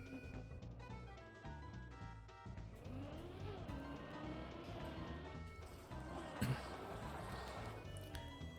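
A racing car engine in the video game Deep Dip 2 whines and revs up and down over layered game music, with a brief tire squeal and skid near the end.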